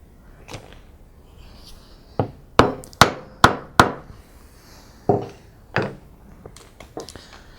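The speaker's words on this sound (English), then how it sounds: "I'll take a wider chisel and I'll drop it into that line, and then I'll chop down" A wide chisel is struck to chop down into wood for hand-cut drawer dovetails, giving sharp, close mallet knocks in an uneven series, four in quick succession, in an otherwise quiet room.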